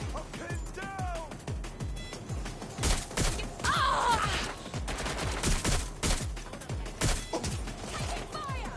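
Bursts of video-game gunfire from Watch Dogs Legion crack repeatedly in close, rapid volleys, with shouted voices cutting in between the shots during a firefight.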